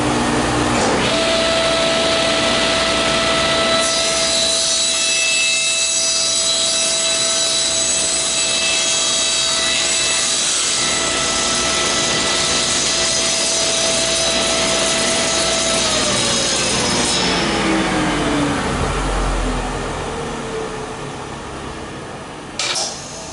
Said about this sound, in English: Just a combo blade I've got in the table saw.